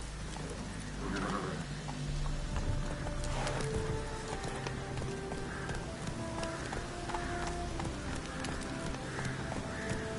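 Horse hooves clip-clopping at a steady gallop in The Witcher 3, a continuous rhythmic patter of Roach's hoofbeats running close and moderately loud throughout.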